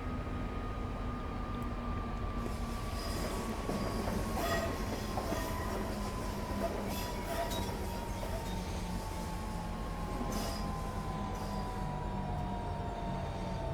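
A Class 395 train runs in the Train Simulator video game on the London to Faversham line, a steady rumbling roll with a rising-and-falling motor whine and faint clicks throughout, with no voices.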